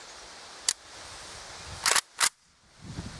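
Sharp gunshots aimed at a watermelon sound out, one short crack followed by two louder reports close together, with quiet outdoor background between them.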